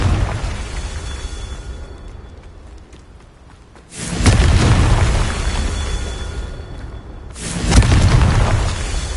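Two heavy booming blasts from the Confringo fire spell in Hogwarts Legacy, the first after a stretch of low ambience and the second about three seconds later, each a loud burst that rumbles away slowly.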